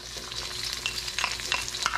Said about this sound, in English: our wok is already sizzling because it was already preheated